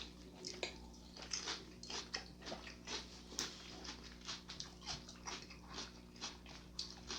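Close crunching and chewing of a turkey sub with crisp lettuce, repeated wet crunchy bites in an uneven rhythm, fairly quiet and up close with no talking.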